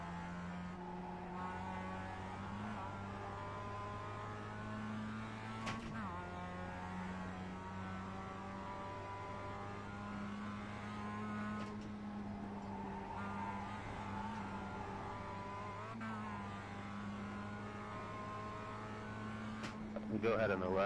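A Mazda MX-5 race car in Assetto Corsa Competizione drones along at steady revs, engine pitch dipping briefly at gear shifts and lifts, with occasional tire noise and close, continuous engine sound.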